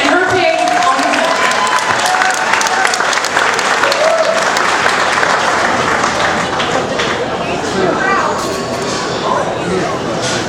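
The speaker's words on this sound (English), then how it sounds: "Ladies and gentlemen, a big round of applause for Tiffany and her pig, Uncle Phil." A large audience applauds loudly and steadily at a live pig show event, dense clapping filling the whole stretch with a few voices mixed in.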